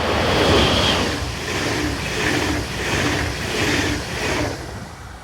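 German electric locomotive 146575 hauls an intercity service past on the Bremen to Hannover line near Wunstorf, a loud, steady rushing roar with rhythmic surges as the train passes close by.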